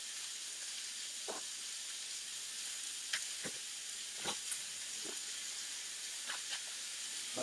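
Sausage sizzles on a griddle with a steady, quiet hiss throughout, broken by occasional soft scrapes and clicks of a utensil.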